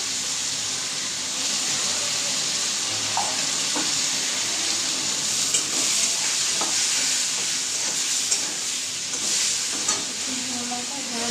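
Potatoes frying in a pan with ginger, garlic, salt and spices, heard as a steady loud sizzle with occasional stirring scrapes and clicks of the utensil, close and continuous throughout.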